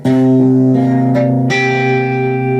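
Loud, distorted electric guitar chords ring out in a short riff, with sustained harmonics and a couple of sharp re-strikes, no voices.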